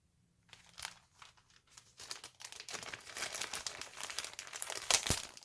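A crinkly plastic bag is handled up close, a quiet, irregular crackling and rustling that builds in density over a few seconds.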